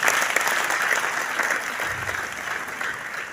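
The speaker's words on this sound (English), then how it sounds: "Please, youths in the house, clap for yourself." A youth summit audience in an arena applauds, dense clapping that is loud at first and eases slightly toward the end.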